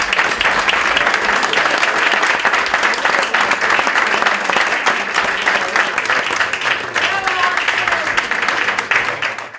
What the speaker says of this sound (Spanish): darle un fuerte aplauso a nuestro invitado de hoy, a Ángel, por este maravilloso regalo